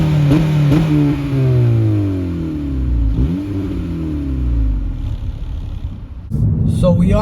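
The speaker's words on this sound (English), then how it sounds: "It's my first time actually recording an exhaust clip for this car." A car on its stock exhaust revs up and down through several rising and falling engine sweeps, close and loud, with a brief gap before another burst near the end.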